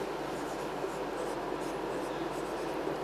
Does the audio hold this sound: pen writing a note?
yes